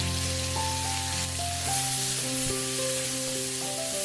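Thinly sliced medium onions sauté with cumin seeds in a pan for a matar paneer curry, making a steady close sizzle under a faint background hum, with nobody talking.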